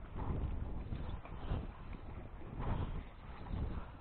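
Strong wind gusts buffet the microphone at a seaside breakwater, with a low rumbling roar that swells and eases in waves, heard alone.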